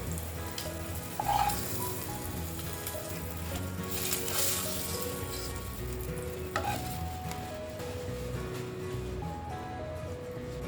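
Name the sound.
eggs frying in oil with turmeric and salt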